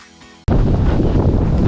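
Strong, cold wind blasts across an exposed park trail, bursting in abruptly as a loud, steady roar against the microphone after a brief quieter moment.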